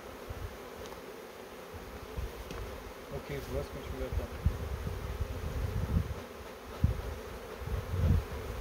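A honey bee swarm buzzes steadily throughout while being captured, a dense insect drone close by, with brief spoken French partway through.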